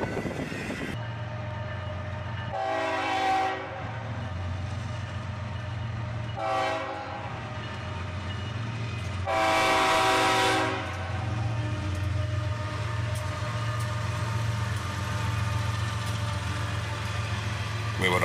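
A CSX freight train with a mid-train DPU rumbles steadily past nearby while its horn sounds in three separate blasts, the last one longest and loudest, over continuous rolling wheel noise.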